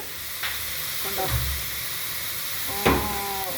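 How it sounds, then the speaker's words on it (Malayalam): Onion and carrot frying in coconut oil in a pan, a steady hiss with occasional stirring clatters and scrapes, fairly close and alone. "വെളിച്ചെണ്ണ ഒഴിച്ച് ഉള്ളി ക്യാരറ്റ് എല്ലാം കൂടി മിക്സ് ചെയ്യാം"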